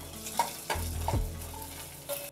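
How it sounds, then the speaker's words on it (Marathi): Curry leaves, mustard seeds and cumin sauté in oil, a low crackling sizzle with a few spoon knocks and scrapes against the pan, close and fairly quiet, no voices. "आता कढीपत्तो, मोहरी आणि जिरा त्या चांगला परतून घ्यायचा"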